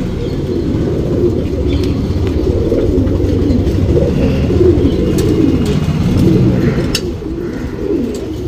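A male Anari Buri pigeon coos steadily up close, a low murmuring call that runs throughout with only brief dips and no talking.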